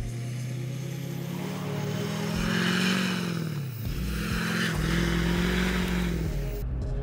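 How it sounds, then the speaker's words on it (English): A pickup truck on Cooper Discover AT3 XLT all-terrain tires does a burnout, its engine roaring loud and steady with rising revs and a brief dip midway, alone without talk. "All right, so first, a burnout test."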